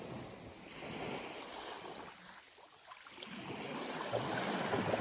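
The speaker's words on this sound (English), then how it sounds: "I'll leave you now with the sounds of the ocean" Ocean waves washing onto a sea glass beach in the morning, a continuous soft surf wash with gusty wind across the microphone, swelling, dipping briefly, then building again.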